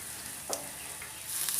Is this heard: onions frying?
yes